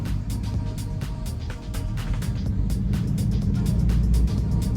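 A manual-transmission car pulling away slowly in first gear with the clutch eased out and light throttle, a steady low engine drone with rhythmic clicking or ticking over it, heard from inside the car.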